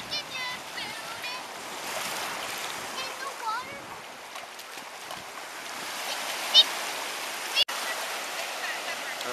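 Ocean waves and surf off Florida wash in a continuous rushing hiss, close and steady, with a few brief clicks and knocks over the water noise.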